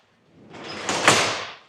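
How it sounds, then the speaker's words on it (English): A garage door with slack springs being hauled open, a rising rolling rumble that swells, peaks with a rattling clank near the top, then fades. "This door needs, the springs need tightened."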